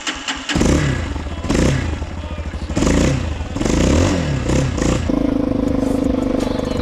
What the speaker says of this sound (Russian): Так, заводимся.